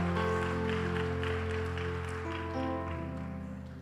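Church congregation clapping in praise during a Korean worship service, a dense continuous patter of applause under sustained organ or keyboard chords, fading slightly toward the end.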